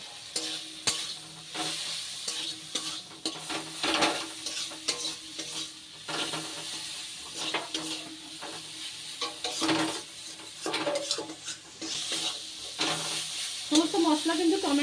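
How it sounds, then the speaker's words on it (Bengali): A spatula stirs and presses tomatoes mixed with turmeric, chili powder and salt in a pan for masala okra. Close, repeated scraping strokes sound over a continuous frying sizzle, with occasional clinks against the metal. "খুন্তি দিয়ে একটু এরকম করে দিলে টমেটোগুলো খুব ভালোভাবে গলে যাবে।"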